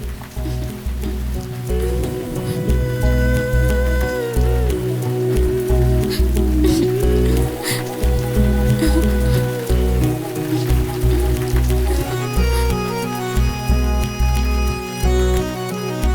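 Steady rain falls on a surface throughout, a constant close wash of drops with a faint tonal drone running beneath it and no talking.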